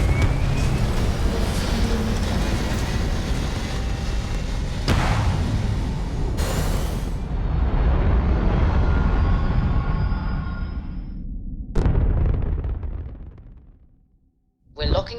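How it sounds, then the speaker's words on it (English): Starfield spaceship thrusters fire in a long, steady roar with a deep rumble, briefly broken by sharp bursts, then cutting out abruptly near the end before a final surge; a voice talks over it. "All thrusters firing."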